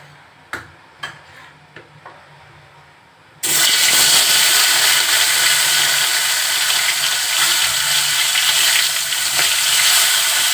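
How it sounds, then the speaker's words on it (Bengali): A fish head coated with salt and turmeric hits a hot pan and fries, a few quiet clinks first, then a sudden loud, steady hissing sizzle that continues up close to the end. "মাছের মাথাটা লবণ হলুদ মাখিয়ে রেখেছি এখন একটু হালকা ভেজে নিব"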